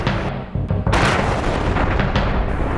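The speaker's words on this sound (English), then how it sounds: "thuds of explosion." Heavy explosion thuds in war-torn Mosul, a sustained loud rumbling blast with a sharp burst near the start and rolling booming noise after, no voices.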